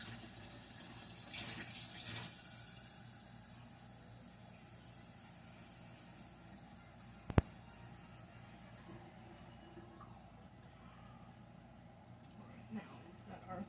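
Hot water runs from a kitchen tap for a few seconds while pizza dough is being made, a faint steady hiss that stops, followed by quiet kitchen sounds.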